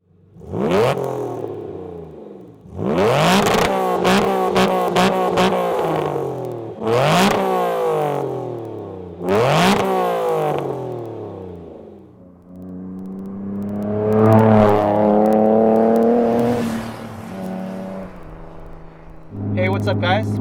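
A Glickenhaus SCG 003 race car engine revs hard in several loud, close bursts that climb and fall, then settles into a rougher, sustained drone before one more rev at the end.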